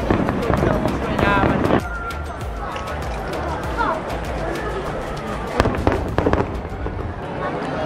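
Sharp explosive bangs of fireworks at the PL Fireworks Festival in Japan crackle over a steady murmur of a crowd, with a dense burst early on and another cluster of pops later.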